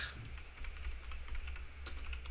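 Computer keyboard typed on in a rapid run of close, distinct key clicks during Android database coding work, steady throughout with a slightly louder burst near the end.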